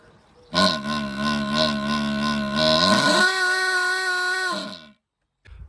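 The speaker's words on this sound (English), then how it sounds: "And you've met the didgeridoo." A droning brass-like horn tone sustained for about four seconds, with a rich stack of harmonics that wavers and then shifts to a higher pitch midway, loud and alone before a brief silence.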